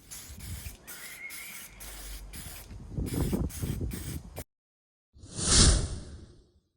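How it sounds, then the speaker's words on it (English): Primer is sprayed from an aerosol can onto a bicycle frame in a series of short hissing bursts, then a pause and one louder final burst, close and without talk. "I use primer from spray can because it's easier"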